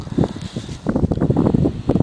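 Wind gusting outdoors during a metal-detecting outing, buffeting the microphone in uneven bursts of rough, rustling noise, loud and close, with no speech.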